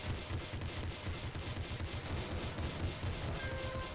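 Rapid, continuous gunfire in the video game Nuclear Throne, bullets bouncing off walls, a steady dense rattle of repeated shots lasting several seconds with no talking over it.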